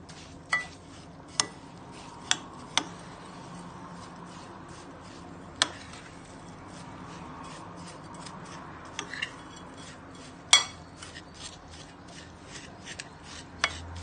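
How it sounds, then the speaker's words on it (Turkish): A spoon works melted butter into crushed biscuits in a bowl for a chocolate mini cheesecake base, giving sparse, faint clicks and taps against a quiet background. "Erittim 2 yemek kaşığı güzelce bisküvime yediriyorum"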